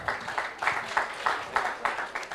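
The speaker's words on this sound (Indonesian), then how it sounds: "Boleh tepuk tangan." A small group claps in a room during a debate session, a short, fairly quiet patter of hand claps falling into a loose, regular rhythm.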